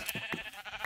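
Several short bleats from a Minecraft sheep, quick repeated calls in close succession, heard clearly and close up.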